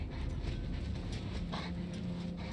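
A dog panting steadily in the video game Mad Max, soft and continuous breathing under low rumbling background noise.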